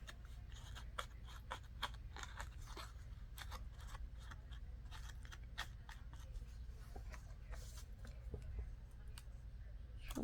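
Scissors snipping paper journal cards, a series of quiet, crisp cuts in irregular rhythm, close to the microphone over a low background hum, with faint handling rustles between snips.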